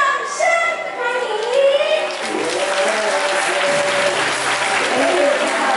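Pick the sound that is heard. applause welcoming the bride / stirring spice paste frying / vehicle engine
applause welcoming the bride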